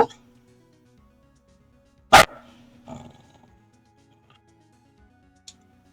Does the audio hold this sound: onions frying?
no